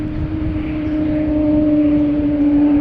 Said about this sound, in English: It's doing a turn and burn, spooling up the whale sounds